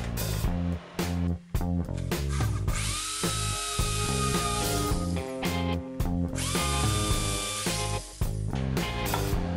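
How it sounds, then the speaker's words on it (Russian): A power drill with a spade bit whines and bites into wood in two long bursts, with short stop-start revs between them, close and loud. "Попытаюсь просверлить отверстие для пыли удаления перьевым сверлом"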